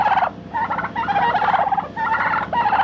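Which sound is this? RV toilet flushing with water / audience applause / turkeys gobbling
turkeys gobbling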